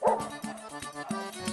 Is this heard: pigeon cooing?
no